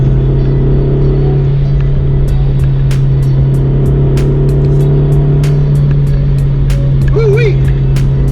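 Honda CR-Z on Falken tires driving through a corner, a steady close engine drone with road rumble throughout, broken by light rhythmic ticks and a brief squeal as it brakes and turns in.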